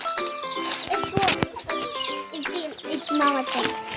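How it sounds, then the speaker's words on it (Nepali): Chickens and small chicks cluck and peep close by in a farmyard, with a steady stream of overlapping calls and a few louder squawks throughout. "यहाँ छ हाम्रो चल्ला देखेन होला तपाईँले"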